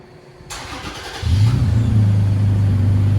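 A 2018 Toyota Tacoma TRD Pro with a 3.5L V6 and Borla Pro-XS exhaust cranks and fires up after a click, then settles into a loud, deep, steady idle rumble.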